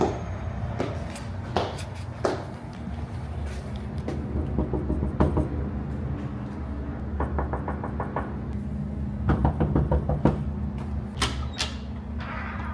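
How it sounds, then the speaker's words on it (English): Knocking on a door of a rented house during a weekend stay: repeated sharp raps in short bursts, spread over about thirteen seconds, fairly close and loud against a low steady room hum, with no talking. "stop knocking on the fucking door"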